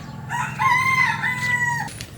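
A single rooster crows loudly and close by on a rooftop garden, one long drawn-out call with no talking around it.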